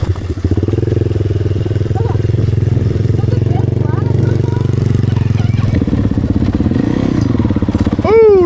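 A dirt bike engine runs loud and close with a steady throbbing idle, then revs up near the end, while people talk over it.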